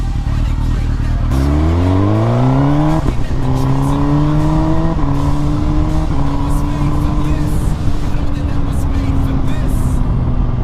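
A Suzuki GSXR1000 motorcycle engine revs with a new throttle tune, rising in pitch in steady climbs and holding loud and close throughout, with tire noise and voices mixed in.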